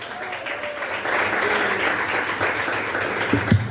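A church congregation breaks into applause, a dense, sustained wash of clapping at moderate distance, with a brief louder clap near the end.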